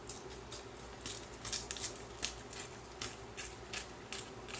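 A page from an old, brittle dictionary is torn by hand in a series of short, crisp ripping bursts at an uneven rhythm. The tearing is close and fairly quiet, with no talking.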